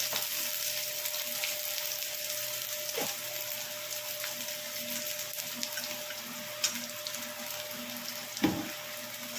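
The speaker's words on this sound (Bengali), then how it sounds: "দিয়ে এবার পেঁয়াজটা ভেজে নিই" Onion frying in oil in a pan at home, a soft, steady sizzle heard fairly quietly, with a couple of brief utensil knocks and a faint background hum.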